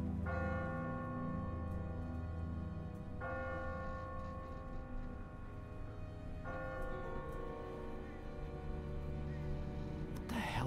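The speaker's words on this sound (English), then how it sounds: "Ask not for whom the bell tolls." Church bell tolling in The Walking Dead Telltale video game, episode 4: three loud, resonant strikes spaced about three seconds apart, each ringing out with a long sustained decay, with no talk.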